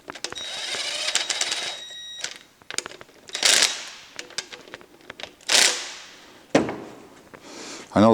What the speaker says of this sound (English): I know that sounds rough using an impact wrench, but it is a small impact wrench